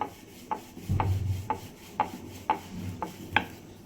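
Nimki dough dusted with flour being rolled thin with a rolling pin, giving a steady series of soft knocks and rubbing strokes about every half second, close and clear with no talking.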